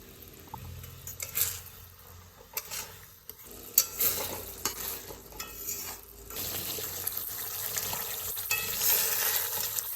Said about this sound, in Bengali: এবার মশলাটা কষিয়ে নেব যতক্ষণ না তেল ছেড়ে আসছে ততক্ষণ কষাতে হবে